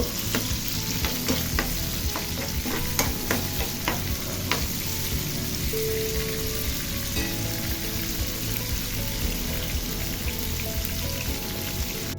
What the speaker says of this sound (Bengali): সবগুলো উপকরণ প্রথমে তেলের সাথে একটু মিশিয়ে নিব